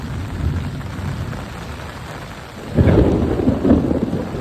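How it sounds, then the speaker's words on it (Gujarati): Steady rain hisses throughout, then a loud, close rumble of thunder rolls in and grows, continuing to the end. "ગાયજો જોરદાર ગાયજો"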